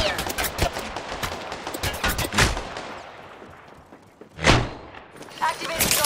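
Enemy gunfire in a sci-fi shooter video game, loud bursts of shots and thumps early on, then a lull before another sharp blast and more firing, with radio-style voices talking over the action.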